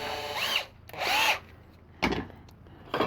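A power drill whirs in two short bursts, then two sharp knocks or clatters follow, close and loud with quiet gaps between.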